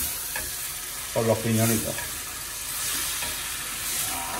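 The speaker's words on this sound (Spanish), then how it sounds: "Y ahora freímos este orégano" Oregano fries with pine nuts in a pan, a steady sizzle and stirring scrape running throughout, while a person speaks briefly partway through.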